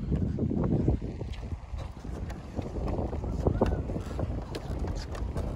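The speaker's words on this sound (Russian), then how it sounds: "Так, сейчас ветер" Steady wind buffets the microphone with a low, continuous rumble and roar, gusting slightly throughout, with faint outdoor noise mixed in, at a beach resort on Saadiyat Island, Abu Dhabi.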